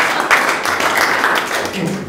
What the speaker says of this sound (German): Klatschen, klatschen, klatschen.